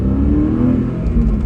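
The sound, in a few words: sports car accelerating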